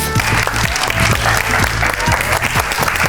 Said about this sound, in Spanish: le damos un fuerte aplauso a Cindy Fernández